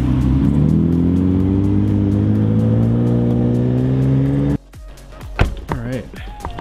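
A 2016 Subaru WRX engine runs at steady idle then revs gradually higher for over four seconds, close and loud; it cuts off abruptly, followed by a brief whoop and other sounds.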